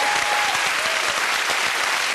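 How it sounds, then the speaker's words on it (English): Steady, dense studio audience applause on the ITV game show All Star Family Fortunes for the Falconer family, loud and continuous throughout. "Give them a big round of applause"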